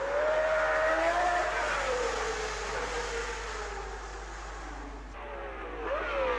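Race cars at the 1960 Monaco Grand Prix, the field running nose to tail on the first laps: an engine note rises and falls as cars pass and fade, with a high whining tone that dips and climbs again.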